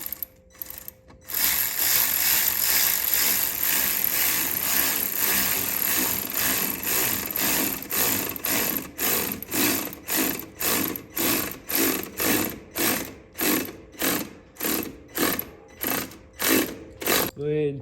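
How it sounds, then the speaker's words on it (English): A ratchet tightens a part down on a turbocharged Chevrolet Suburban engine. After a brief start, a continuous run of clicks gives way to a steady rhythm of short, close ratcheting strokes. "Now I'm going to go ahead and tighten her down."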